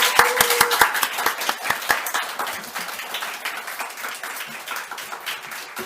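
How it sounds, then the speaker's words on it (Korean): A church congregation claps to welcome a missionary to the pulpit, with a few sharp, distinct claps at first that build into steady, lively applause. "우리 박수로 강단으로 모시겠습니다"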